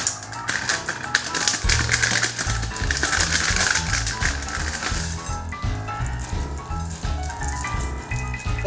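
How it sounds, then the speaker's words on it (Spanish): Salt is sprinkled over wet chestnuts on a plate, making a dense, rapid patter of small grains ticking and rattling against the shells, close and fairly quiet, with no speech. "y ahora después le echo sal"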